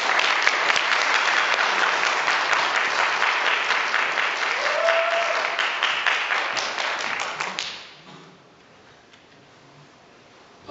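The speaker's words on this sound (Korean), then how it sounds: "나오실 때 우리 박수로 한번 격려해 드립니다." A church congregation applauds in a Rochester Korean church service, dense steady clapping filling the room for about seven seconds before cutting off into quiet room tone.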